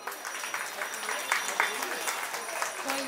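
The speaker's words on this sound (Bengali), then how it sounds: "আরো জোরে করতালি ওর প্রাপ্য" Moderate applause follows a child's poem recitation at a cultural programme, an even spread of clapping from a modest crowd, fairly soft, with a voice speaking briefly.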